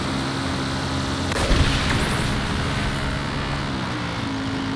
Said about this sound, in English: Drive by with the laser gun.